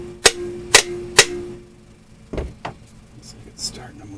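Someone strikes the horn of a Ford Model A to free it: three sharp metallic clangs in quick succession, then a few duller knocks and rattles as the work goes on.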